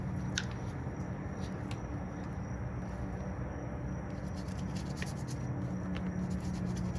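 A brush scrubs the housing of a STIHL 020T chainsaw with water, making a steady wet, bristly swishing that continues close up for several seconds with faint squishy ticks.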